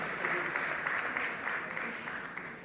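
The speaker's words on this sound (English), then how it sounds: "A loud round of applause, ladies and gentlemen." Audience applause fills the hall at the FE India's Best Banks Awards ceremony, a dense, even wash of many hands clapping that stays steady and fairly close throughout.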